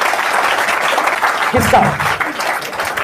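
A seminar audience claps in a brief burst of applause that mixes with someone talking loudly over it, with crowd noise throughout.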